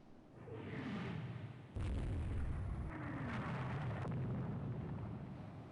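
Shell impacts on a warship in the naval strategy game Rule the Waves 2, 5-inch and 4-inch rounds, heard as a series of heavy booms and bursts that swell over a steady low rumble, with a sharper blast about midway.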